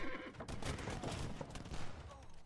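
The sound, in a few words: bombard cannons firing in Age of Empires video game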